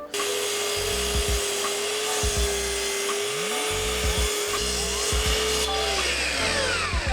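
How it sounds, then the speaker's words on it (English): A hand saw cuts through a wooden barge board at a marked mitre line, giving close, steady rasping strokes that carry on through the whole stretch with no talk over them. "line my saw up with it where I want it to be"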